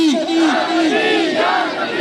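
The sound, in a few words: crowd chanting slogan in welcome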